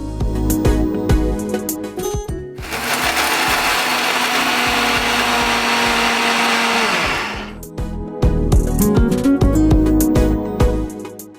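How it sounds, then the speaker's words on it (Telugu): A mixer grinder whirs loudly for several seconds, grinding roasted sesame seeds, sugar and dry fruits, bracketed by clattering knocks and jar handling before and after the run. "మిక్సీ పట్టేసుకొని ఇప్పుడు ఇవన్నీ మిక్సీ పెట్టుకోవాలి."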